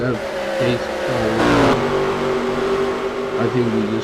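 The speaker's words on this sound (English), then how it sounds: "That pace car" A pace car circles the Dover race track, its engine a steady, loud drone with a brief rise in revs partway through, while a commentator talks over it.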